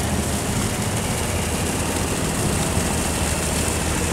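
A powerful tugboat engine runs steadily close by while the boat waits for a barge to pass, a constant loud, dense broadband drone with a low rumble and no breaks.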